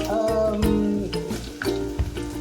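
Kashmiri chili powder, asafoetida, fenugreek and turmeric fry in a pan for mango pickle. A close sizzle runs under tonal music, with occasional soft stirring knocks.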